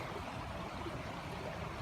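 Dry Creek flows along a hiking trail, a steady broadband rush of running water heard close and constant, with no voices or other distinct sounds.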